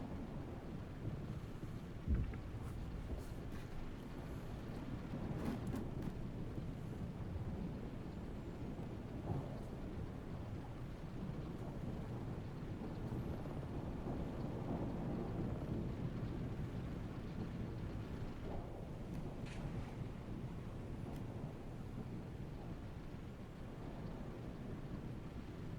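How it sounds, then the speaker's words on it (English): A thunderstorm in the video game Armored Brigade rumbles continuously and faintly for the whole stretch, with steady rain and wind wash and a few soft distant thunder swells. "That storm is giving us a little bit of cover, believe it or not."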